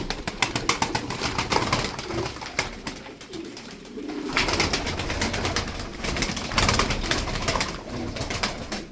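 Tumbler pigeons coo over a continuous outdoor bustle, with repeated bursts of wing flapping and fluttering as the birds take off and fly nearby.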